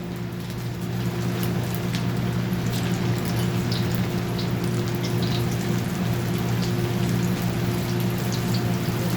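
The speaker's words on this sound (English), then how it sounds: "we're going to fry the chicken" Chicken deep frying in hot oil preheated to 350 degrees gives a steady, dense crackling sizzle with scattered pops, continuous and close, over a low constant hum, with no talking.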